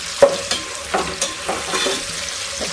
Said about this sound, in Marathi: हा कांदा एकदम लाल बुंद होईपर्यंत आपल्याला याला फ्राय करायचं